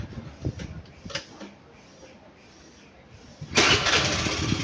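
A motorcycle engine cranks and catches after the ignition key is turned, following a few quiet clicks, then settles into a loud, steady close-up idle.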